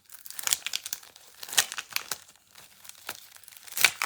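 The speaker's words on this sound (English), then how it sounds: "Comes all wrapped up in plastic." Plastic wrapping around a new silkscreen crinkles and crackles in irregular close bursts, with louder crumpling flurries at the start, middle and end and quieter rustles between.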